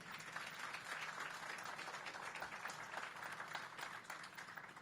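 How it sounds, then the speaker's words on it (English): An audience applauds at an outdoor groundbreaking ceremony, a faint, steady wash of distant clapping that runs the whole clip without pause. "Give her a round of applause."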